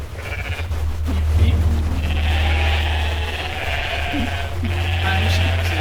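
A sheep-like bleating, loud and wavering, repeats in several drawn-out calls over a steady low drone, apparently a human voice imitating a sheep.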